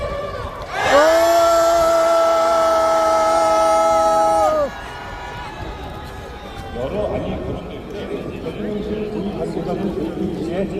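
Massed crowd at a candlelight rally near the National Assembly demanding President Yoon Suk Yeol's impeachment lets out a loud, sustained collective roar for several seconds, then drops to a lower murmur of voices and scattered shouting.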